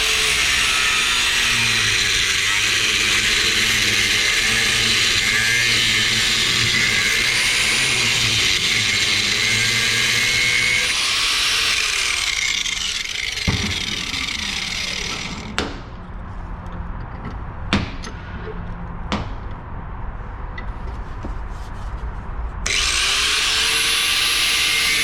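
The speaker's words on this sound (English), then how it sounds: "I will cut this bearing off, or cut the bearing out of the pulley" A power tool grinds loudly and continuously while cutting a failed bearing out of a pulley, then gives way to several sharp metallic knocks and scrapes before the tool whines up again at the end.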